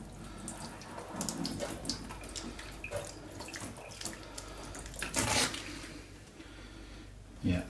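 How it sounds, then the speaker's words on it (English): Tap water running steadily into a sink while shoes are rinsed under it, a close continuous splashing rush with brief louder bursts as the stream hits the shoe. "now we're going to try and just rinse these off."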